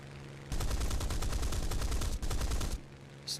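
Rear gunner machine gun fire from an aircraft in the War Thunder video game: one sustained rapid burst of about two seconds, briefly broken, then stopping, loud and close with no talk.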